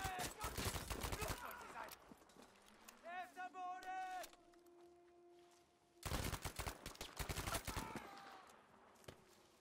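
Dense bursts of rapid automatic gunfire crackle in a Battlefield 5 firefight. Two long volleys of shots come close and loud, with a quieter stretch between them that holds a whining tone and some other battle noise.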